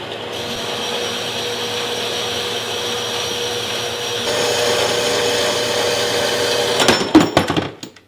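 A portable bandsaw cuts through a metal workpiece in a workshop, a steady whining buzz running continuously and growing slightly louder midway, then ending in a few clattering knocks as the cut finishes.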